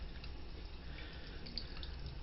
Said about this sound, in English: So I'm going to rinse that off.